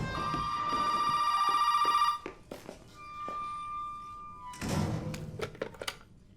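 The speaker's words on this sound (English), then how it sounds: "the phone in the laundry room starts ringing" A telephone rings in a laundry room in Resident Evil 7: Biohazard, a loud electronic ring for about two seconds, followed by thunks, a quieter tone and clattering handling sounds.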